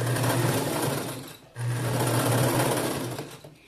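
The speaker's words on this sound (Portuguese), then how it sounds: "vou passar uma costura aqui bem próximo" A sewing machine stitching a skirt waistband seam, running in two steady buzzing bursts of about a second and a half and two seconds, close and clear with a brief pause between them.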